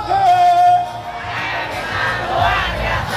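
A crowd of school students shouts a loud, unified cheer in response, a sustained roar of many young voices with a rising shout, close and energetic throughout.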